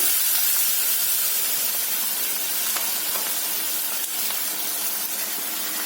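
Chopped onions sizzling in hot oil with fennel seeds and turmeric in a pan, a steady broad hiss and crackle that stays loud and constant throughout with no voices.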